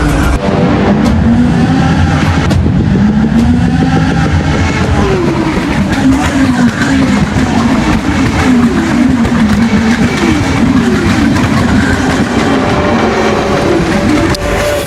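Rally cars race at a Rally X event, engines droning and revving continuously with wavering pitch as they pass, loud and constant throughout with no speech.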